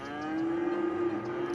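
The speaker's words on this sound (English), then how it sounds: "Moo!" Cows moo in Cities Skylines on PS5 around farmland by a residential area, one long, steady, droning moo held close and loud, with no talking.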